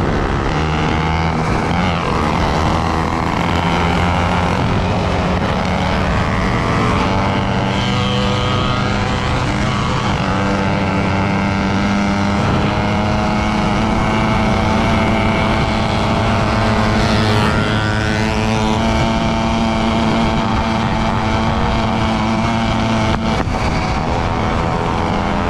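Several 100cc mopeds idle and rev together outdoors, a steady dense engine drone that fills the whole stretch with no pauses.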